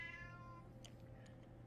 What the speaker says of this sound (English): the cat wants out of the room after howling to get in here